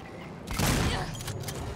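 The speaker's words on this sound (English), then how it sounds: "The shotgun blast." A single heavy shotgun blast in the survival horror game Alien: Isolation, a loud sudden boom that decays over about a second.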